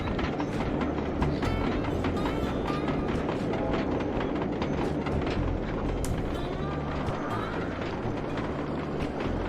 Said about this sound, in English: There's train coming, there's train coming.